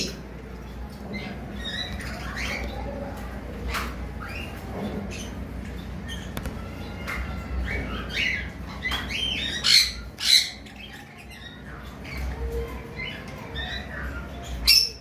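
Conure parrots squawk in a bird-shop setting, sharp harsh calls rising above a busy background chatter of birds, with several loud squawks clustered near the middle and one near the end.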